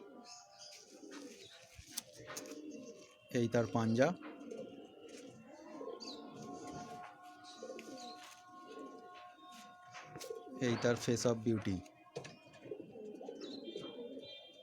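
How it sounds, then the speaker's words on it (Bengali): A Fulshira Kaldama male fancy pigeon in a home loft gives soft, low coos close by, with bursts of fuller cooing, while someone talks over it almost throughout. "পায়রাটা ফুলশিরা কালদমা।"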